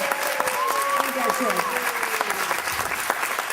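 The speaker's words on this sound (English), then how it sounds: "Give them a round of applause" Audience applause for a group of pirate performers taking a bow, dense steady clapping filling the whole stretch, with voices and a whistling tone rising over it.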